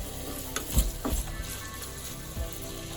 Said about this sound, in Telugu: ఆనియన్స్ మంచిగా వేగాలన్నమాట కొద్దిగా గోల్డెన్ కలర్లోకి వచ్చేదాకా ఫ్రై చేసుకోవాలి